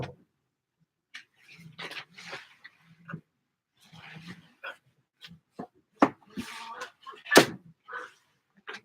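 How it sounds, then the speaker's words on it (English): An interior door swings shut with a sharp thud in a quiet room, among scattered knocks and faint handling noises, with brief voices nearby. "You can shut my door, Randy, if you want to."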